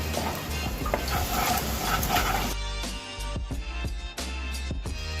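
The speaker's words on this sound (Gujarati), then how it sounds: "હવે ચણાના લોટને બરાબર આપણે શેકી લઈશું." A spoon stirs and scrapes gram flour roasting in a hot pan with a steady sizzle, then a series of sharper taps and scrapes toward the end.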